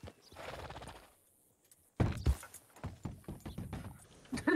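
A horse in the roleplay video game El Rancho RP gives scattered hoof clops and short neigh-like bursts. The sounds are close and irregular, separated by a quiet gap.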